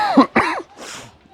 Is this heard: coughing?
yes